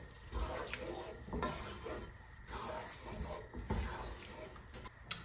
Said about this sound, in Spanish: Mezclamos esto muy bien.